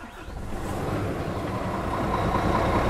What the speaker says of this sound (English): I'm just going to start it up.